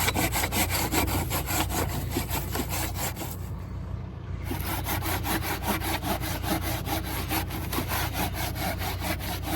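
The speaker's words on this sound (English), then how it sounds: "I'm using a Japanese pruning saw." A Japanese pruning saw cuts through wood in steady, close, rhythmic rasping strokes. A short pause comes midway before the back-and-forth cutting resumes.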